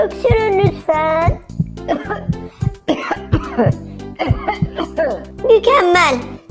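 Cartoon character coughing during a pretend doctor's checkup in a children's show, several short coughs amid childlike voices talking and giggling, close and clear.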